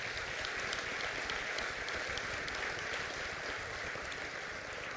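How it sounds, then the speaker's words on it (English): Audience applause at a city's state-of-the-city address, honoring the police department: a steady, even wash of clapping from a crowd that holds at the same level throughout, faint and distant. "our police department deserves a round of applause"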